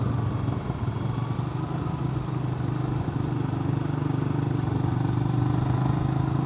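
A motorcycle engine runs steadily nearby on a hot rural road, a low rumbling idle with a slight clatter, continuous and fairly even in loudness with no voices.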